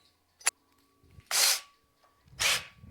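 A drill bit boring into material, heard as two short bursts of high-pitched grinding separated by a pause, preceded by a brief click, in an otherwise quiet space.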